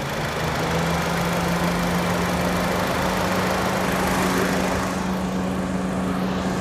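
A used Honda Jazz RS engine running steadily at idle under the open hood, heard up close as a continuous even hum with no talk over it.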